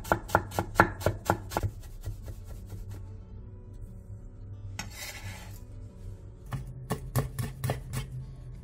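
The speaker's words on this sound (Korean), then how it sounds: "계란물에 넣을 당근 조금과 대파 조금을 잘게 다져주세요." A knife finely chops a little carrot and green onion on a board, in rapid bursts of sharp, close taps with a pause in the middle before another quick run of chopping.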